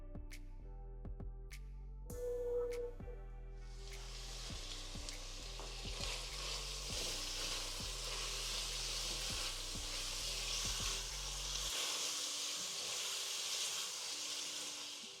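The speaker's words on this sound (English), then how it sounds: "our sausages are starting to brown and develop a little crust in our pan" Andouille sausages brown in a pan. A steady, fairly faint sizzle and hiss begins partway through and continues to the end, preceded by some low droning tones.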